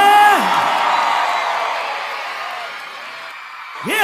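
An audience at a live concert in Bahia shouts and cheers loudly right after a performer's brief shouted call. The crowd roar is broad and close and fades gradually before a new vocal begins at the very end.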